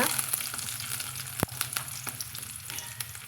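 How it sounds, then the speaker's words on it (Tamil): Steady crackling sizzle of small onions and curry leaves frying in hot oil after mustard seeds, with scattered pops and one sharp clink, close up and continuous without talk. "கடுகு பொரிஞ்சதும் சின்ன வெங்காயம் கருவேப்பிலையும் சேர்த்துக்கலாங்க"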